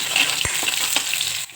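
Curry leaves drop into hot oil already crackling with cumin and mustard seeds in a kadhai, giving a loud, close sizzle with a few sharp pops.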